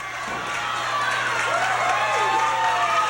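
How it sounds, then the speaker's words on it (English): A 1983 Southwest Championship Wrestling arena crowd cheers, a continuous roar of voices and scattered clapping that fills the hall at steady loudness, with faint talk mixed in. "you hear the crowd"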